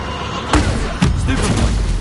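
Stupefy spell cast in the video game Hogwarts Legacy, two sharp booming impacts about half a second apart amid ongoing combat noise.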